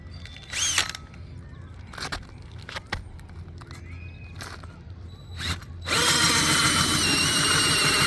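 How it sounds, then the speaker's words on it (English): A few scattered clicks and knocks, then a power drill starts up and whines loudly and continuously, boring close by during a water heater relocation. "let's drill this fucking hole."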